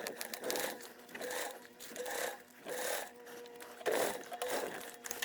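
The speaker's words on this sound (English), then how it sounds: "we are going to top stitch on either side" A sewing machine top stitches a 1/8-inch seam on a fabric wallet in short rhythmic bursts of rapid needle chatter, with brief pauses between runs, close and fairly quiet.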